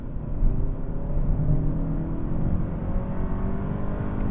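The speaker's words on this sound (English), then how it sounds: "once this car is moving, like I'll demonstrate up here, this thing, like from a roll, is properly fast" A 300-horsepower car accelerates hard from a rolling start at about 30, its engine and road noise a steady, loud, continuous roar that builds throughout.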